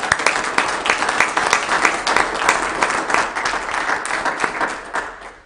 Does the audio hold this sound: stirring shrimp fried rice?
no